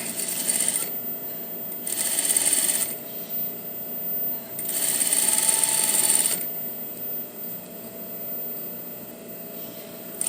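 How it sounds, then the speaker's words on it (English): A sewing machine stitches a quarter-inch seam with back tacking on a puff sleeve, running in three short bursts separated by pauses, with a faint steady hum between them. "I'm going to sew, again, a quarter seam, back tack,"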